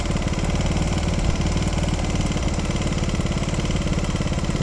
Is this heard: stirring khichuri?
no